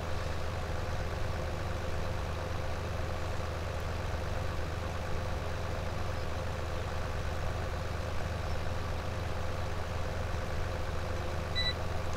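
A Deutz-Fahr tractor in Farming Simulator 17 working a field with a plough, its engine a low, steady, unbroken drone throughout.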